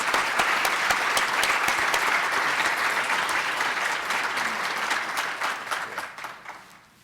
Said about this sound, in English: We can just give them a round of applause